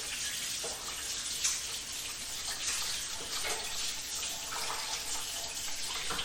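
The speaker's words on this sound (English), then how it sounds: "Now I'm just going to wash my hands." Water running from a sink tap into a bucket placed in a kitchen sink during hand washing, a steady hissing gush that stays even throughout, close and alone with no talking.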